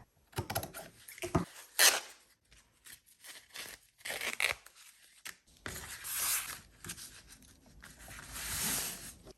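Canvas fabric being trimmed to size with scissors, giving a run of dry crisp snips and rustling handling noises in irregular bursts, close and moderately loud, with no talking.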